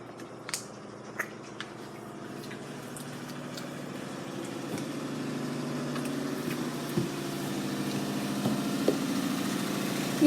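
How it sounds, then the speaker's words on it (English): Washing machine running indoors at night, a steady low mechanical hum and rumble with faint intermittent clicks and knocks, moderately quiet and continuous throughout. "that's the washer right there. It's pretty loud at night"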